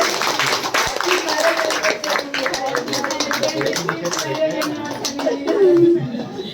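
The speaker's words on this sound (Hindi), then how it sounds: "ताली बजाओ" A gathering of people claps hands at an anniversary celebration, moderately loud uneven clapping with voices talking and calling out over it throughout.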